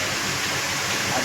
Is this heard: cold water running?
yes